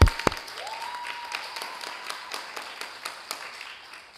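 Scattered, thin applause at a virtual graduation ceremony, with one sharp clap near the start and then light, uneven claps over a faint steady tone for about four seconds.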